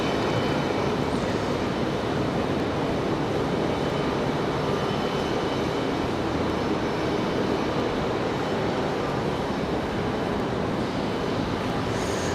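An Osprey tiltrotor aircraft departing from Raleigh-Durham International Airport, a steady, dense engine and rotor roar holding at constant loudness throughout, fairly close and without voices.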